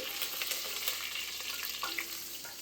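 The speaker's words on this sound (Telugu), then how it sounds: "తర్వాత జీలకర్ర, మెంతులు అతి తక్కువగా. ఇప్పుడు దీన్ని ఒకసారి కలుపుకొని" Cumin and fenugreek seeds sputter in hot oil while being stirred, producing a close, steady crackle with light scraping.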